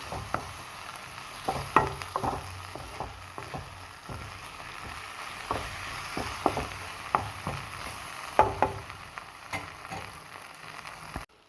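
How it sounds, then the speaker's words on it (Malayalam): Cooked lentils and cabbage thoran stirred in a pan, the spoon scraping and clinking against the metal in irregular strokes over a soft, steady sizzle, with no voices. "നമുക്ക് പരിപ്പും കാബേജും കൂടെ ഒന്ന് മിക്സാക്കി കൊടുക്കാം"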